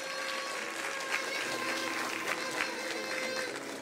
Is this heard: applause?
yes